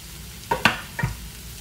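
A few brief scraping stirs of puttu mix with spring onion, leeks and green chilli in a pan, two or three quick close strokes over a quiet background.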